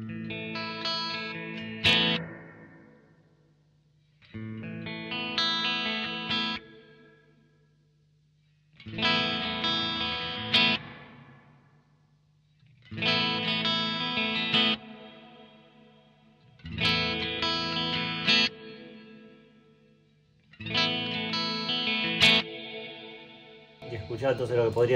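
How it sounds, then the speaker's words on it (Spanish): Electric guitar through a pedalboard with reverb, delay and chorus effects, played in six loud, separated chord phrases, each ringing out with a washy tail and a low steady hum between them. "Y acá vas cambiando obviamente también los tipos de reverb."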